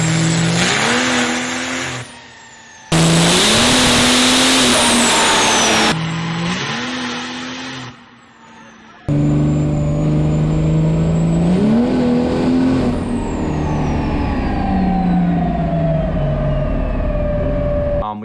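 A diesel truck roars hard on a chassis dyno at a callout challenge, the engine revving in loud surging bursts with abrupt cuts and a long sustained high-rpm pull, loud and close.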